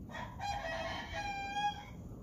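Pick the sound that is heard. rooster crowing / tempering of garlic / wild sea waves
rooster crowing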